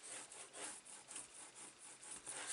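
Paper is burnished by hand on a handmade mini album, a faint, soft rhythmic rubbing of quick back-and-forth strokes repeating steadily at close range with no talking.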